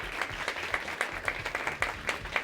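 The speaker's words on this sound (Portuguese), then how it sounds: "Uma salva de palmas para todos" A seated audience at a human rights anniversary event claps in a steady patter of applause, with moderate volume and rapid, fairly even hand claps throughout.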